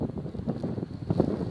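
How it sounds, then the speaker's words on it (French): Strong wind gusts buffet the microphone outdoors during a snowfall under an orange weather alert, a continuous rumbling roar with pulsing surges. "il y a des vents des rafales de vent qui sont quand même assez fortes"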